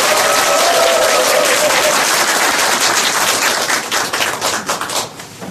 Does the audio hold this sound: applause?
yes